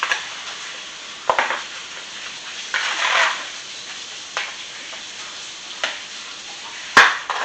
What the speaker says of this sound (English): I'm going to mix the butter and the shrimp and the onions together and the sausage